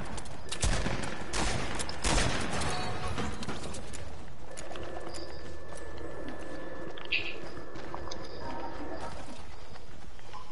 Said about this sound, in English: All those gunshots and shit.